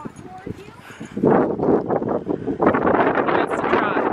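Hooves trot in a steady rhythm on soft ground, with wind buffeting the microphone and a voice speaking nearby.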